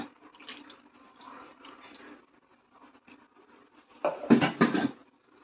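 Water splashes during rinsing and straining while making mango rasamalai: soft, intermittent trickling at first, then a brief, louder gush near the end, heard close with no talking.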